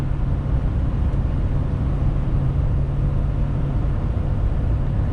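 A 2021 Ford F450 truck towing up a grade in ninth gear, with a steady low engine drone under constant road and wind rumble inside the cab.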